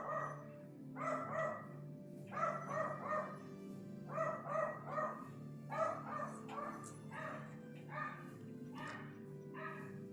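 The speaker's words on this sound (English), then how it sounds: "Sounds like my dog is excited." An excited dog barks in repeated bursts of yips and barks, fairly close and loud, with short pauses between clusters over a steady low hum.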